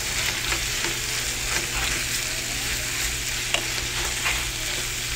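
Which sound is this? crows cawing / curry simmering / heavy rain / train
curry simmering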